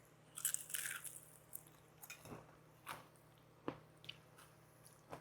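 Close, quiet crunching bites and chewing of crispy fried onion rings, a few crisp crackles followed by softer squishy chews at irregular intervals.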